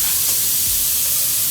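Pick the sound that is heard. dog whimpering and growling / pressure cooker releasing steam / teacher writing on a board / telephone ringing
pressure cooker releasing steam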